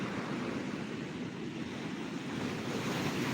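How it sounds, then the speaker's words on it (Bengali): Storm surf at Digha beach pounds and surges over the sea guard wall, a loud, continuous roar of crashing water with wind buffeting the microphone, no voices. "একদম গার্ডওয়াল টপকানো জলোচ্ছ্বাস দেখতে পাচ্ছেন ওদিকটা বিশ্ব বাংলা দিকটা পুরো একদম জল গার্ডওয়াল টপকে ছিটকে আসছে জল"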